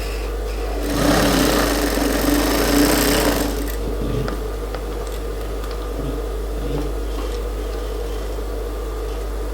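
A sewing machine stitching a women's suit, a fast, steady mechanical whirr that runs loud and close for about three seconds before stopping, leaving faint workshop hum.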